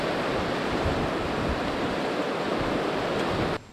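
Sea waves at Koum Kapi beach in Chania wash against an eroding shore, producing a loud, continuous roar of surf that cuts off abruptly at the end.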